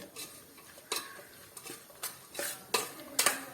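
Pickle being stirred with salt and chilli for an Onam pickle, giving scattered scraping and clinking strokes of a utensil against a dish, several sharper knocks near the end, close and fairly quiet with no talk.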